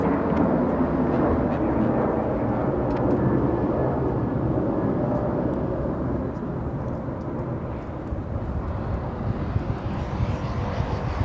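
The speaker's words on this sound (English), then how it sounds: "The All Nippon that landed, that was what that was the Dreamliner. Yeah, 787-9" An All Nippon Airways Boeing 787-9 Dreamliner lands at LAX, its jet engines producing a broad, steady rumbling roar that slowly eases, heard from a distance with low background murmur.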